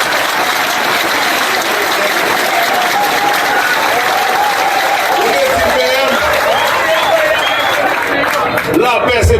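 Sustained applause from a crowd gathered at a town event, dense and steady clapping throughout with a murmur of voices and some cheering mixed in near the end.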